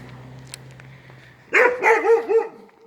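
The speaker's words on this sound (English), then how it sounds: "we got a dog here that's looking at me like, who are you, buddy?" A dog barks during a neighborhood walk, a short burst of about four sharp, loud barks close by, following a quiet stretch of low background hum.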